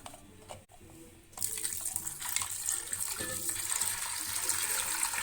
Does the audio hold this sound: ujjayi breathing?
no